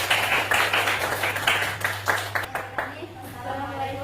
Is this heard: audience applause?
yes